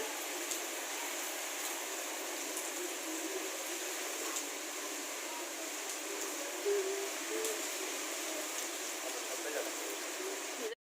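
Steady, soft hiss of light rain falling continuously, an even wash of patter with no breaks.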